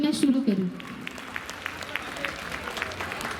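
An audience at a live singing performance in Ghaziabad breaks into applause, a spread of moderate crackling claps that carries on steadily after a brief spoken phrase at the start.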